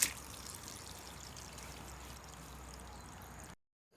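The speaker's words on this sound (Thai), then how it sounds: "ล้างสักสามสี่น้ำนะล้างให้เม็ดออกหมด" Ivy gourd fruits are washed in water to rinse out their seeds, producing a soft continuous splashing and pouring wash for about three and a half seconds that then stops abruptly.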